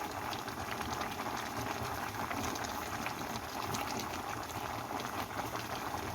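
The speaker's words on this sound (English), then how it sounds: "It's boiling." Chicken stew (dakdoritang) bubbles in a pot, a soft, steady simmering rumble with fine popping, heard alone at low level.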